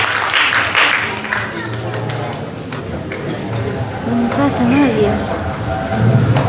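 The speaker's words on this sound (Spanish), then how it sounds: "Palmas para recibir a Pierre Manrique de Mariscal Cáceres." Audience applause greets a performer at a piano recital, a steady wash of clapping with a spoken announcement over it and some brief tonal pings.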